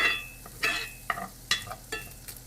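Sausages lifted one by one from a hot frying pan, sharp bursts of sizzle and scraping flaring up at intervals between quieter crackle, close by with no talking.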